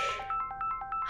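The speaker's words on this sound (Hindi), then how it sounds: "हिकमत का फोन आ रहा है।" A mobile phone rings with a repeating electronic ringtone, a quick series of bright, evenly spaced tonal pulses, close and clear, with no talking over it.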